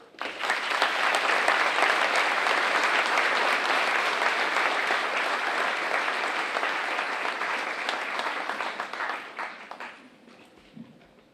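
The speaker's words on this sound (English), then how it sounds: "Please give yourself a big round of applause." Sustained applause from the audience at an elementary school's fifth grade promotion ceremony, a loud, dense crowd of clapping hands that holds steady for about ten seconds before tapering off at the end.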